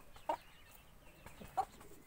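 A hen gives two short, soft clucks about a second apart, calling other birds over to scattered grain in a small farmyard enclosure.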